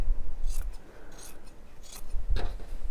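Scissors snip through T-shirt fabric close to the seam, making about four crisp, separate cutting strokes with quiet fabric rustle between them.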